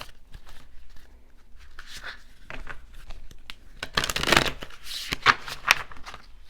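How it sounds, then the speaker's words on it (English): A deck of cards is cut and shuffled by hand during a card reading, a soft papery riffle that builds to a crisp flurry of snapping cards near the end, close and without talk. "I'm going to cut this and do one more shuffle and pull a card from the top."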